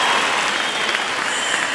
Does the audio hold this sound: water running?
no